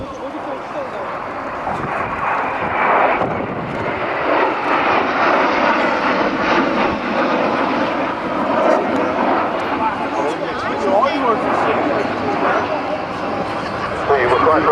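A Comox 18th Squadron aircraft with fixed, non-retractable landing gear comes in to land at the Sanicole Airshow, its steady engine roar loud and sustained throughout, with crowd babble underneath.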